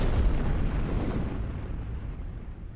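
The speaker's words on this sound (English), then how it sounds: "We just had a sponsor bomb come through." A bomb explosion sound effect played on a livestream: a deep booming blast at the start followed by a rumbling tail that slowly decays over a few seconds, heard alone without talk.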